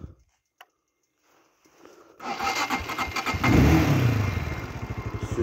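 A Motoland ST250 motocross motorcycle engine cranks on the starter and catches after a few quiet seconds, then idles with a steady, rough rumble close by.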